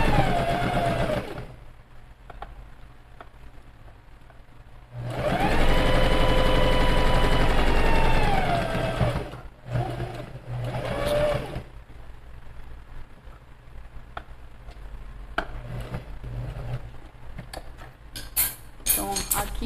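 A sewing machine stitches the fabric lining of a bag pocket in a loud, steady whirring run of several seconds, followed by shorter bursts and handling noises.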